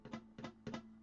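Three quick guitar strums of a chord with some strings muted sound thin and dull, evenly spaced and close, with no talking during them.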